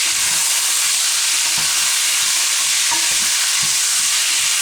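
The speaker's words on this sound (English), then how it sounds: "I've got my pork chopped up and ready to go in. So I'm going to fry this off" Chopped pork sizzles steadily in a hot frying pan, a loud continuous hiss with occasional stirring scrapes and pops throughout.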